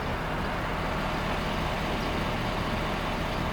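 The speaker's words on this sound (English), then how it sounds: "Now at idle, the truck doesn't sound any different." A Ford 6.7 Powerstroke diesel pickup, stock emissions with an added tune, idles at roughly 600 to 680 RPM with a steady, even rumble from close by, heard alone.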